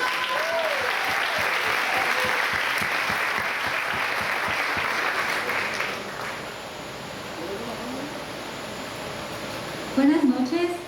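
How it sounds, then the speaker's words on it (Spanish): Church audience applauding a person called up to give a testimony, dense sustained clapping for about six seconds that then fades into room noise, with some voices and a brief sound near the end. "Por favor, denle un aplauso a Lidia Georgina González."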